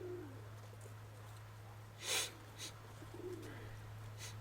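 Pigeons, including a blue bird with a speckled tail, fly and coo outdoors. Soft low cooing rises a couple of times over a steady low hum, with a brief wing flutter, faint and somewhat distant.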